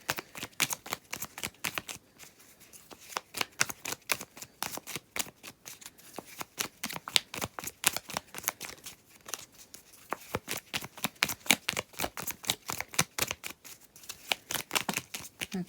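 Tarot cards are shuffled in the hands in close, crisp riffling bursts, a rapid run of flicking snaps repeated over and over, with short pauses between shuffles.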